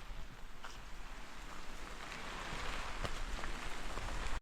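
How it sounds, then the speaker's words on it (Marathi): Steady rain falls on an outdoor trail at Sajjangad fort near Satara, a dense continuous hiss with scattered drop taps that swells slightly louder toward the end, no talk. "चालू झाला पाऊस चालू झालेला आहे आता"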